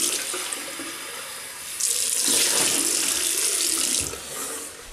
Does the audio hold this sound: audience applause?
no